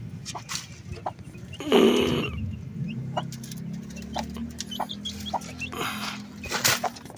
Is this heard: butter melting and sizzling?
no